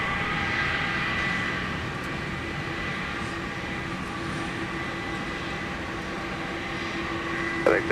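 An airliner takes off from runway 30 Left at Minneapolis–St. Paul Airport, a steady broad jet engine roar that stays loud and continuous, heard from a distance without speech.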